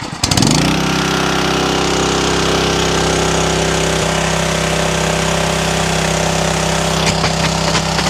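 A gas-powered sprayer engine revs up and then holds a loud, steady drone close by for several seconds, with a few faint clicks near the end.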